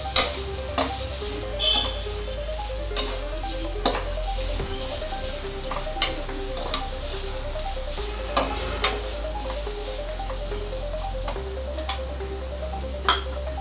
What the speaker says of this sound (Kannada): ದಪ್ಪ ಮೆಣಸಿನ್ಕಾಯಿ ಈರುಳ್ಳಿ ಅರ್ಧಂಬರ್ಧ ಬೇಯಬೇಕು.